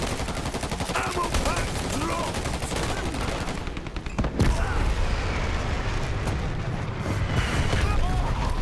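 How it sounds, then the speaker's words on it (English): Airstrike explosions and gunfire in a competitive team shooter match: a dense rattle of shots gives way to a heavy booming burst near the middle, with continued blasts and chatter of combat afterward. "a nice airstrike by Dawn"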